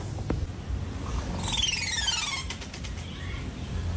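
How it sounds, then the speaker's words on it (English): A bird gives a strange descending, sweeping call followed by a rapid trill, heard against steady outdoor background noise. "please listen to this f***ing bird"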